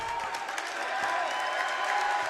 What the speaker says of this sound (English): this crowd comes to its feet here in Merrimack